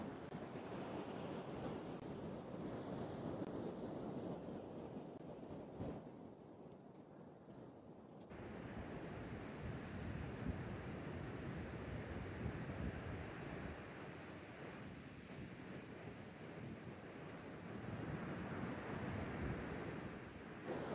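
Ocean surf at Strands Beach in Dana Point, a continuous roar of breaking waves mixed with heavy wind buffeting the microphone, loud and steady with a short lull, no talking.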